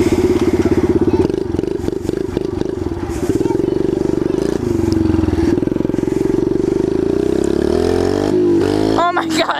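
A Kawasaki KLX 110 pit bike revs loud and close, its small single-cylinder engine buzzing steadily with rising and falling pitch and clattery mechanical noise, ending in a sharp climbing rev.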